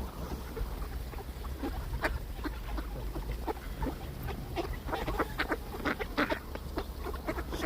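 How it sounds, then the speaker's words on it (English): A large flock of roughly thirty geese and fifty ducks on urban water, quacking and honking in a steady overlapping chorus, with sharper individual calls rising out of a constant low rumble. "maybe 30 geese here. I can't, the ducks are smaller, tighter together, probably 50"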